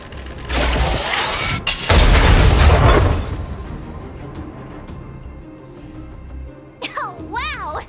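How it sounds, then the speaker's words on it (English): A loud explosion bursts in the Honkai: Star Rail video game, a heavy rumbling blast with a sharp crack that decays into mechanical rattling, followed by quieter game sounds and a short voiced line near the end. "We wiped them all out in a single explosion!"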